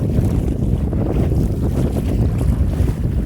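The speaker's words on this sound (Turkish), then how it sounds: "Rüzgar tam karşımızdan esiyor. Çok şiddetli. Dalgalar da oradan geliyor." A strong headwind roars across the microphone as waves slap against a small boat at sea, a loud, continuous rushing and churning with no voices.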